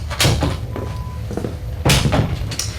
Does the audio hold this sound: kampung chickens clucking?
no